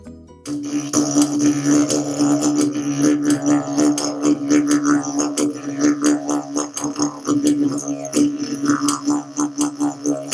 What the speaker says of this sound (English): Didgeridoo.